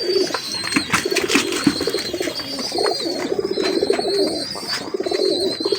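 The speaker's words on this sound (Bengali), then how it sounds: "পায়রা দুটো ছাড়ছে দেখুন" A pair of pigeons cooing as they are released, repeated throaty coos and soft chirps at close range, with light flutters and handling noises in between, no speech.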